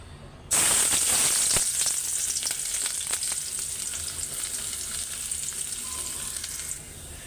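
Onions sizzle loudly in a hot pan for a curry, a steady close frying hiss that starts abruptly and carries on with small crackles and occasional stirring clicks, no voices.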